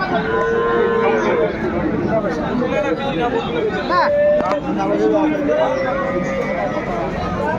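A dairy cow moos repeatedly, close and loud, at a busy village cattle market in Dinajpur where cows and calves are sold, with sellers and buyers chattering all around.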